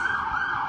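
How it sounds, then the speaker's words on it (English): An emergency vehicle siren wails steadily at moderate distance, a continuous tone held through the short moment with no talk over it. "you hear the sirens?"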